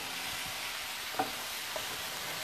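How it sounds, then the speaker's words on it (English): Onions, apples and Brussels sprouts sautéing in a pan, a soft even sizzle with a couple of faint utensil taps, no talking. "So we're going to saute those and let those get soft."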